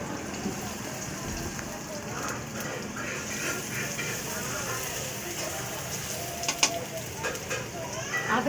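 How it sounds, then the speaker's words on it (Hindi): Onions frying in a pan until light brown for chicken korma, giving a steady soft sizzle and crackle that continues evenly without a break. "इसे हम लाइट ब्राउन कलर आने तक इसे फ्राई करेंगे।"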